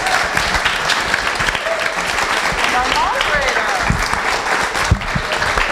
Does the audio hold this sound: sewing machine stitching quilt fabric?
no